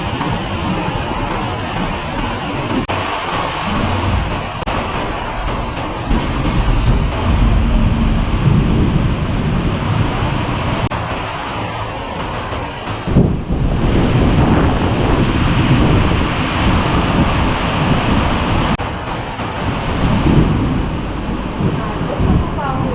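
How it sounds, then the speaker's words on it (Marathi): Heavy monsoon rain pours steadily in Konkan, Ratnagiri, during a power cut, a dense continuous roar with rumbling low-end surges like distant thunder, while someone talks over it. "डेंजर पाऊस आलेला आहे"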